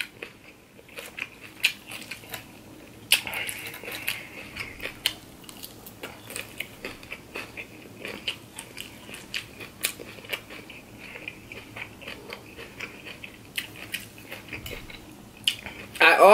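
Someone eats shrimp salad up close, with steady wet chewing and occasional crunchy bites and utensil clinks.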